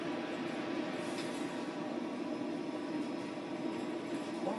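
A Class 142 Pacer diesel train, a highly sprung unit known for bouncing, running between Manchester Victoria and Leeds, gives a steady loud rumble and rattling roar from inside, constant throughout with no talk.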